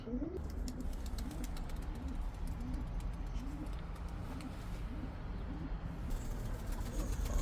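Soft, repeated cooing of pigeons, painted tumbler pigeons during a flight session, rises over a constant dull background rumble, with faint scattered clicks.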